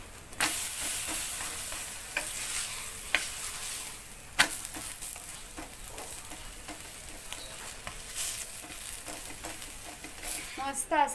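Butter sizzling and frying on a hot pan under a beetroot paratha, a steady hiss with occasional spatula scrapes and light clinks throughout.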